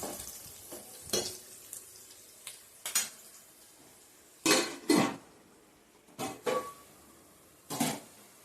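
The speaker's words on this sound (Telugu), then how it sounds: "ఉల్లిపాయలు వేగుతూ ఉన్నాయండి" Onions and green chillies fry in oil for an Andhra mutton curry, a soft continuous sizzle broken by repeated loud bursts of spatula scraping and clanks against the pan, with no speech.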